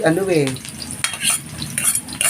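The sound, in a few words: garlic frying and being stirred in a pan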